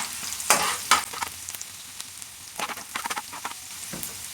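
Garlic and onion frying in a pan for tortang talong, hissing in bursts of sizzle as a utensil stirs and scrapes them, fairly close and moderately loud with brief quieter gaps.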